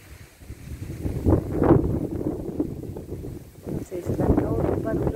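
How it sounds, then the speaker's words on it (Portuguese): Strong wind buffets the microphone in gusty, rumbling surges, loud and close, with no clear speech. "Nossa, tá um ventão."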